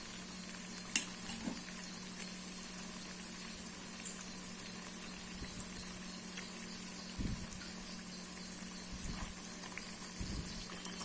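Bonda snacks deep-fry in hot oil over a medium flame, giving a steady, close bubbling sizzle throughout with no talking.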